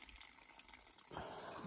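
Water gushing into a 1 gallon jug on a hike near Panamint City, a faint steady trickle that swells into a louder, fuller pour partway through, with no talking.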